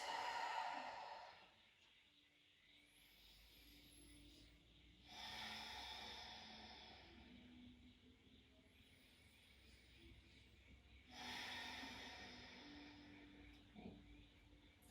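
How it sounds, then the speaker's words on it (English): Slow, deep breathing during a yoga session: three long, close, airy breath cycles in a steady rhythm, with faint tones in the background between breaths. "A couple of deep breaths."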